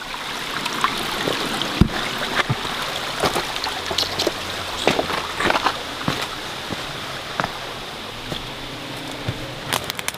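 Water trickles steadily through a Millbank canvas bag pre-filter into a can outdoors, a continuous soft wash broken by scattered sharp drips, with no voices.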